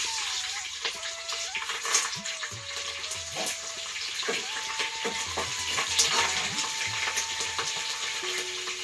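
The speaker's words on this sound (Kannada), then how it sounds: "ಕರ್ಮನ್ ಪುಟ್ಟ ಹಾಕ್ತೀನಿ ಇವಾಗ ಮೆಣಸಿಕಾಯಿ ಹಾಕ್ಲಾತೀನಿ ನೋಡ್ರಿ" Mustard seeds and green chillies frying in a pan, with a continuous loud hiss and crackle throughout and occasional stirring noises over a faint steady tone.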